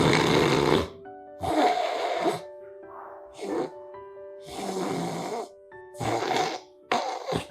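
A man imitates loud snoring with his voice, producing several rough, rattling snore bursts in an irregular rhythm with brief gaps between them, close to the microphone.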